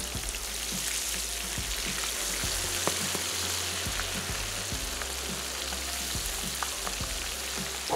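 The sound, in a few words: food frying in a pan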